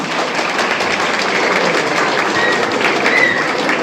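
Wedding guests applauding at a theatrical civil marriage ceremony in a hotel in Gebze, a steady, dense round of clapping throughout, with a few faint high tones over it.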